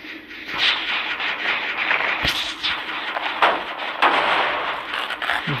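A generator explodes in Dead by Daylight Mobile as a burst of loud, crackling noise with sharp bangs over a steady gritty rumble in the game's sound.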